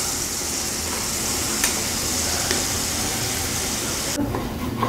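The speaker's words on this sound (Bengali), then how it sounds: "তার মধ্যে গোটা গরম মশলাগুলো দিয়ে নেব। এর মধ্যে আদা রসুনের পেস্টটা দিয়ে দেবো আর পেঁয়াজ।" Ginger garlic paste and onion fry with whole garam masala in hot oil, a loud, steady sizzle with a faint scrape of stirring partway through, the hiss dropping abruptly near the end.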